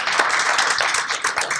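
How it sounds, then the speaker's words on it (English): An audience clapping for a graduate at a 2024 graduation ceremony, a brisk burst of many hands clapping at close range throughout the short stretch. "Give her a hand clap."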